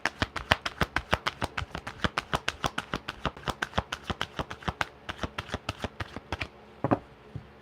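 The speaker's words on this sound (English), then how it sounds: "I'm shuffling the cards and it's picking up both my voice and the cards" Playing cards are shuffled close by in a rapid, crisp run of riffling snaps for several seconds, then a brief pause and a final flick.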